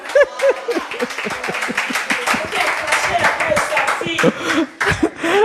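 Church congregation clapping and cheering in praise, lively rhythmic claps mixed with shouts, laughter and excited voices, loud and close throughout.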